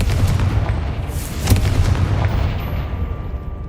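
The Confringo fire spell bursts in Hogwarts Legacy gameplay as a loud, close, booming blast with a rumbling low end and a brief sharper crack partway through, fading into a sustained roar.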